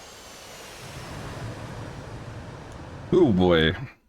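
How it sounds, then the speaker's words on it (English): An F-18 jet engine in a flight simulator game on landing approach gives a steady low roar and whine that holds throughout, with a voice speaking briefly over it near the end. "The struggles of trying to keep an F-18 on glide slope."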